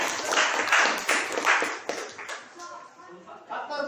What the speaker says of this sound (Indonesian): tepuk tangan untuk Vina